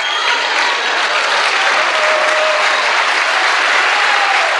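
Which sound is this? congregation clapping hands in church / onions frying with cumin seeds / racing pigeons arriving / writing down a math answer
congregation clapping hands in church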